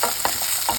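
Potato and paneer pieces frying in a pan, giving a short burst of steady sizzle with a few soft stirring clacks and no voices.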